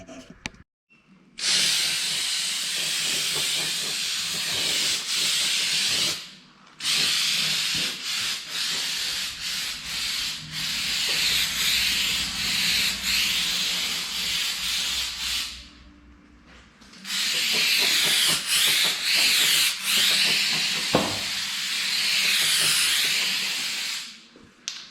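Undercoating sprays onto a GMC truck during rust repair in bursts of loud, broad hissing, three long passes separated by brief pauses, close up and with no talking.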